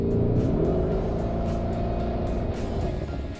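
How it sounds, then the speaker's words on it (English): A Lamborghini Urus SUV engine in Corsa mode rumbles and revs nearby, a deep growling exhaust note with sharp rhythmic pops over a steady drone. "When you pop it into Corsa, oh, you start to get that Lamborghini sound."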